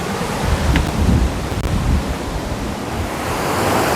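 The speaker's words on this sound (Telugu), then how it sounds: "పచ్చని చెట్ల మధ్య నుంచి, కొండల మధ్య నుంచి వాటర్ అలా రావడం అనేది చాలా బాగుంది" Thonam waterfall near Salur, Parvathipuram Manyam, pours through green hills with a loud, steady, close-up rushing roar that fills the whole stretch, with no voices.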